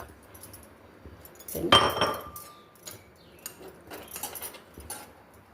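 Cut pieces of dried mango pulp are dropped into a pickle mix in a vessel, giving one short clattering clink followed by faint scattered handling clicks.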